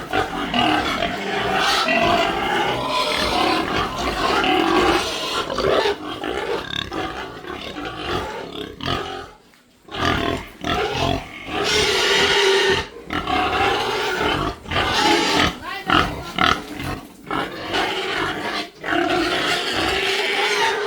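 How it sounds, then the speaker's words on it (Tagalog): Pigs in a pen make loud, rough grunts and squeals almost without pause, with a brief lull partway through before the noisy chorus resumes. "Ito yung mga baboy."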